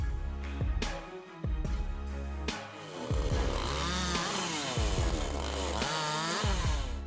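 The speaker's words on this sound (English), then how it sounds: "the saw glides through wood with calm precision" A chainsaw mounted on a sliding rail revs and bogs repeatedly as it cuts through tree wood during stump removal, its engine pitch rising and falling in loud, close bursts.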